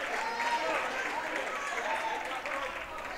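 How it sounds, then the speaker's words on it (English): Home crowd roaring and cheering at a Monday night college basketball game between National Park College and East Texas Baptist University, a steady wash of noise that fills the arena, with a commentator's voice over it. "Crowd really getting into it here tonight at the Kettle"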